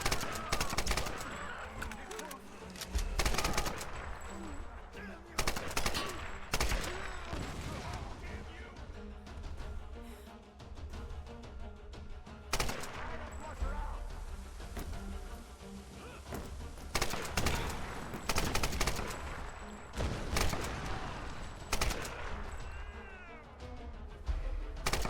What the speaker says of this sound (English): She's shooting at us!